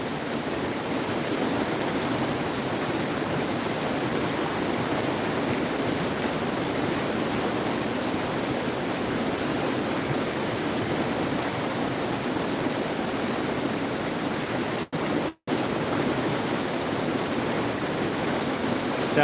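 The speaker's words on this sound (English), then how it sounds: "Yeah, I love the sound of rapids." Whitewater rapids rush in a loud, unbroken roar of churning water that holds steady and close throughout, with one brief dropout near the end.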